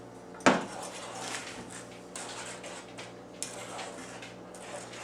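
A spoon scrapes and clinks against a pot on a stovetop while chocolate gravy is stirred, with a sharp clank at the start and scattered light taps and scrapes after, moderately close and without talk.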